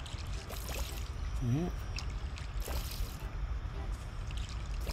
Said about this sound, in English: And then I'm going to water.